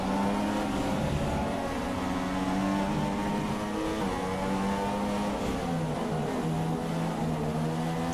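A Formula 1 car engine in the racing game F1 2016 on PC screams steadily, its pitch rising and dipping slightly as the car runs wide through a corner, loud and unbroken.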